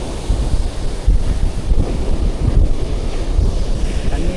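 Waves wash at a Tamil Nadu backwater in a steady, loud, rough roar, with wind buffeting the microphone throughout and no clear voices.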